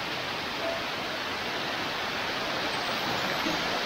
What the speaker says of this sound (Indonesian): inilah air terjun Sirah Kencong